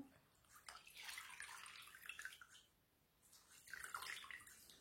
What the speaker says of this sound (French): on va la tremper dans l'eau, du coup, pour pouvoir se rincer le visage